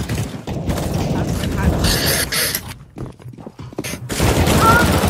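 Video game gunfire in CS:GO, dense rapid volleys of shots that loudly fill the opening seconds, drop away briefly, then return as heavy, distorted bursts.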